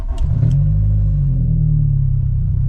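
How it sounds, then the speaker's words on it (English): A MK2 Jetta with its exhaust fallen off drives with a loud, deep, blatting engine drone that holds steady after a couple of quick revs at the start, close and unmuffled. "I'm trying to drive slow because the car's way too loud"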